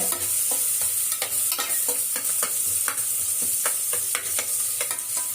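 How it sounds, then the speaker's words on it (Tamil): Onions sauté toward golden in a pan with loud, close sizzling and a rapid rhythm of spatula scrapes and taps throughout. "பாருங்க, கோல்டன் நிறமாக வதங்குதுங்களா"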